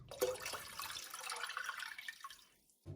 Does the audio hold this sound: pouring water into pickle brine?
yes